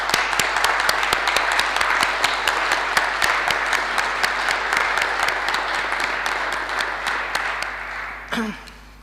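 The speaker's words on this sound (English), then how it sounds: "I think we should give an applause." Sustained applause from an audience at a university alliance event, steady and full for about eight seconds before tapering off abruptly near the end.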